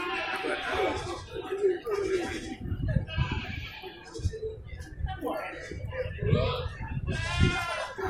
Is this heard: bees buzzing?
no